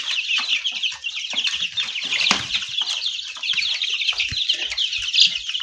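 Young chicks, a mix of hens and cockerels, cluck and cheep busily while pecking at feed of dandelion and nettle, a dense chorus of chirps close by with small pecking knocks and a brief flutter.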